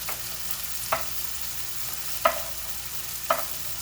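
Onion and carrots sizzle steadily in a pan, a soft continuous frying hiss broken by three sharp clinks of a utensil stirring against the metal.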